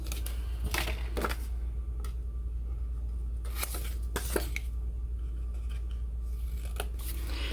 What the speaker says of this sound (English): use scissors to just make darts in one end of these long pieces